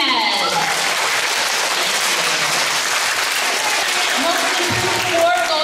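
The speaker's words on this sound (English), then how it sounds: "We need to clap." Audience clapping at a school quarterly awards ceremony, a sustained loud burst of many hands filling the room, with voices and cheering mixed in throughout.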